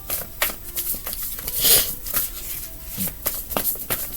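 Repeated riffling and soft slapping of a deck of cards being shuffled close by, in quick bursts with brief pauses.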